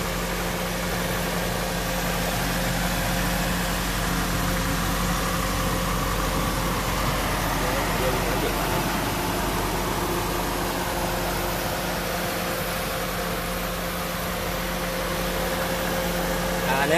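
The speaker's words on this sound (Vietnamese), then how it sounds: "Anh chị nghe tiếng máy nổ thì thầm không" A Kia Pride 1.3 car engine idling quietly with the bonnet open: a steady low hum and soft vibration, close and even throughout, with no talking.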